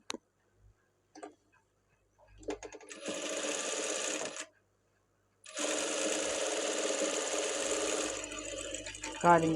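A sewing machine stitches along a folded quarter-inch blouse edge in two sustained runs, separated by a short pause, with a few soft handling clicks before and after.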